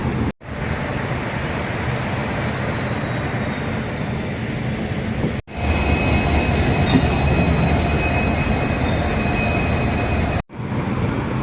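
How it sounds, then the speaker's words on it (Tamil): A Yercaud Express train running on new LHB coaches gives a steady, loud rumble of wheels on rails with squealing tones, broken by a few brief sharp dropouts. No one speaks. "க்ரீன் சிக்னல் வந்து நம்ம ட்ரெயின் கிளம்பிடும்."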